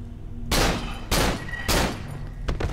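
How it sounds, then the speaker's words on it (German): Three loud pistol shots in the horror video game Cry of Fear, each a sharp blast with a brief ringing tail, spaced evenly about half a second apart, followed by a quicker fourth burst at the end. "Drei Schüsse brauchen wir für eine Person."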